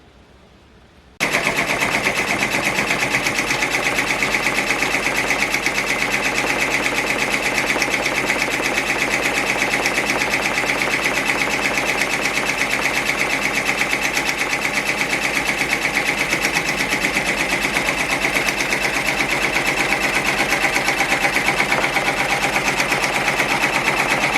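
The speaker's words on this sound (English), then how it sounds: "Then I'm going to go ahead and start the stitching." A Brother PR1055X embroidery machine stitching a mug rug starts up after a short quiet moment, then runs with a loud, continuous rapid mechanical rattle that stays constant throughout.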